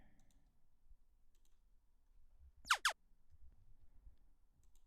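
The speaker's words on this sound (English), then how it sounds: "Just little laser sound effects." Two quick laser zaps from a UK garage production sample, sharp descending sweeps back to back, loud against a near-silent background with faint low rumble.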